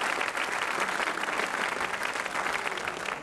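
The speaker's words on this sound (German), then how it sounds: "Applaus für diese Kandidaten." A 1975 German television studio audience claps for the candidates, with steady, dense applause throughout.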